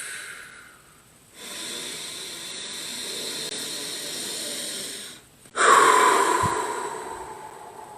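Deep, slow breaths during a breathing exercise: a long drawn inhale followed after a short pause by a forceful, airy exhale, close and loud with no talking.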